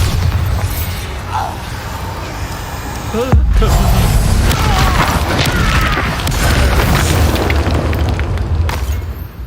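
A Bombarda spell explodes in Hogwarts Legacy with a sudden deep boom, followed by sustained rumbling combat noise and scattered crackles, all under a steady game soundscape with no talk.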